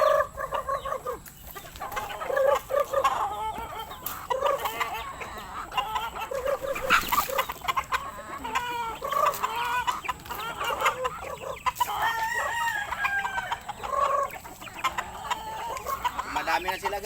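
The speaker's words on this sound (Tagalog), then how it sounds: "feeding tayo na naman natin mga manok" A flock of backyard chickens clucks busily at feeding time, with overlapping close and mid-distance calls, an occasional rooster crow, and a voice talking briefly in the background.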